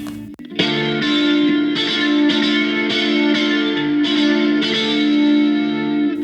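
An electric guitar with a clean, chorus-tinged tone plays a rock song rhythm as steady repeated strums that ring on without stops, close and even, with no voices.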